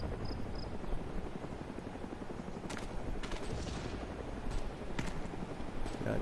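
Distant gunfire in the military shooter Arma 2, scattered cracks and short bursts over a steady rotor-like rumble of a helicopter, no talking.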